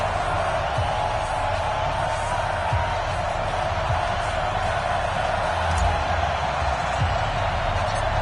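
Steady stadium crowd roar and cheering in an EA Sports Madden football game, Chicago Bears versus Tampa Bay Buccaneers in Week 5, a dense continuous wash of massed voices holding at an even level throughout.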